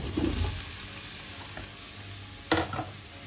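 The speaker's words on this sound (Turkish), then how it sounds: "Patatesle birlikte de bir iki dakika daha kavuracağız." Cubed potatoes sauté in a pan for a meatball stew, giving a soft, quiet sizzle with a couple of brief stirring clatters, one near the start and a sharper one later.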